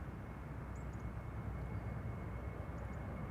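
KLM Boeing 737-700 jetliner at Amsterdam Schiphol, a faint, steady broadband engine roar held evenly throughout, heard from a distance with no talk over it.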